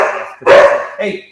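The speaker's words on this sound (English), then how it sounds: "whoops, sorry, that's a dog." A dog barks close by indoors, two sharp barks with a short gap, overlapping a person's voice.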